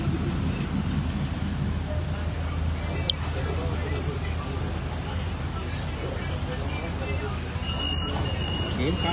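A steady low rumble of a Hyderabad Metro train in motion fills the clip, with faint background chatter and a brief sharp click partway through.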